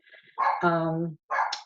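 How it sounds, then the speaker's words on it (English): A dog barks indoors behind a tutor's online lesson, one loud, drawn-out bark with a whining edge followed by a shorter yip, fairly close and clear, with no talk over it. "I apologize for my dog barking in the background there."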